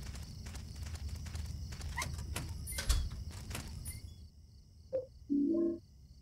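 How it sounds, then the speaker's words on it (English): A home printer runs with rapid rhythmic clicking and ticking, then falls quiet before two short mechanical whirs near the end. "that's my printer making noises"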